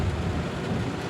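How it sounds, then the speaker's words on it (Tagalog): Heavy rain pours down steadily in stuck traffic, a dense continuous roar with deep low rumble, loud and close, with no talk during it. "Oh, kusog kayong ulan, guys."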